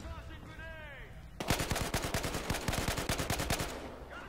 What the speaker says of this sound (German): hier wird schon wieder irgendwo gesniped